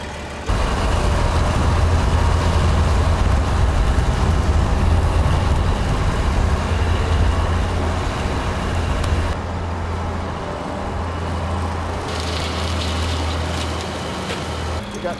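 Heavy farm tractor engines rumble continuously at close range, a deep steady drone with a brief shift in tone midway, no voices heard.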